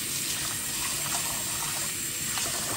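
Water running steadily over rice being rinsed for a Réunion rougail, a continuous close, mid-loud wash with faint splashing and no talk.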